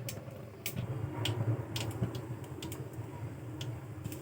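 Mustard seeds and lentils splutter in hot oil in a kadai, giving scattered sharp pops and crackles over a low steady sizzle, close and fairly quiet.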